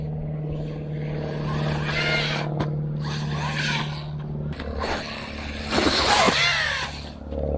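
A UDIRC 1610 PRO small RC truck drives hard, its electric motor whining steadily and surging as it accelerates, with scraping and gritty tire noise over the ground.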